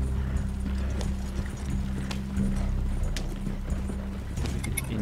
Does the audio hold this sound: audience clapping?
no